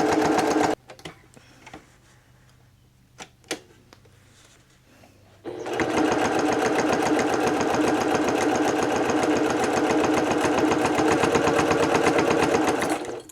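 A sewing machine stitches through the layers of a fabric bowl cozy at a corner. After a quiet stretch with a few faint clicks, steady, rapid, close stitching runs continuously to the end.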